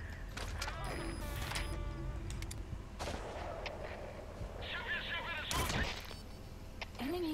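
Gunfire cracks in Metal Gear Solid V: The Phantom Pain, several sharp loud shots scattered across the clip between radio beeps and mechanical whirs, the heaviest blast near the end.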